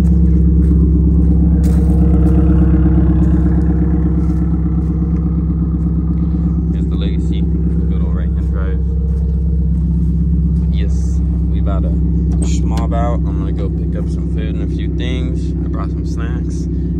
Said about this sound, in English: we just started the STI up